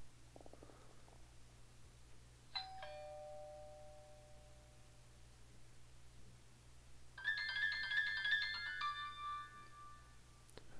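Two Apple iPhone 4S alarm tones play in turn, a brief descending chime followed by a brighter repeating melody, against a quiet low hum.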